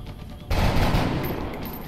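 A shot fired at a UFO in the strategy video game X-COM: Enemy Within breaks out suddenly after a quiet half second as a loud, dense burst of gunfire that rolls on and slowly fades.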